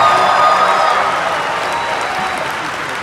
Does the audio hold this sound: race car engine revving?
no